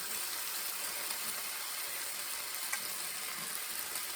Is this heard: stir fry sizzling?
yes